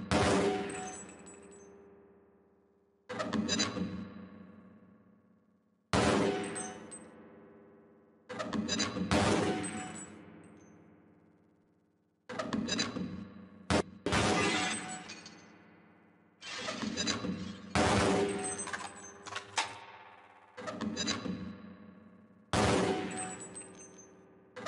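Bursts of grenade launcher fire and explosions on a training target range in Half-Life: Blue Shift, eight or nine loud booming blasts, each ringing out and decaying, spaced a few seconds apart.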